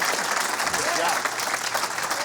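A bowling crowd applauds with a dense, steady wash of clapping and cheering, sustained throughout without a break.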